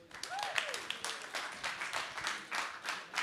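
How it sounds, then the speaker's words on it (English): At a conference theater talk, the audience applauds panelists coming onto the stage. The clapping is fairly quiet and uneven, arriving in swells, and a brief whoop or cheer rises early on. "Give them a big round of applause."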